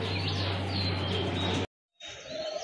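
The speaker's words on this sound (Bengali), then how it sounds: "মাশাল্লাহ খুবই চমৎকার এক জোড়া কবুতর, লাল গিয়ারের কবুতর কিন্তু।" Red-marked pigeons kept as a breeding pair make bird calls, close and fairly clear, over a low steady hum that cuts out abruptly, then after a brief silence more calls follow.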